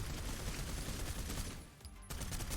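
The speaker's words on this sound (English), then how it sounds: "Especially for the old submachine gun." An old submachine gun fires in the action game Snowbreak: Containment Zone as a continuous, dense burst of rapid shots that breaks off briefly and then starts again.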